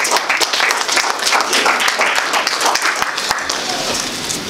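A church congregation applauding, dense continuous clapping from many hands at close range, with voices mixed in beneath the applause.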